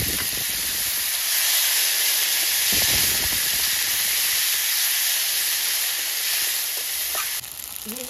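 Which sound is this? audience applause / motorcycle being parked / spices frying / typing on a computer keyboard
spices frying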